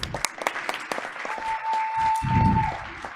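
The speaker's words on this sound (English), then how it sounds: "Let's go ahead and give them a round of applause" Applause breaks out among the audience at a Board of Education meeting, scattered claps that swell into a short burst, with a voice and a steady tone heard along the way.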